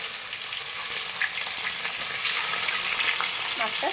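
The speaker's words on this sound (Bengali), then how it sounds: "ভালো করে ভেজে নেব মাছটা।" Katla fish pieces frying in hot oil, a continuous crackling sizzle with small pops and faint utensil sounds, steady throughout with no talk.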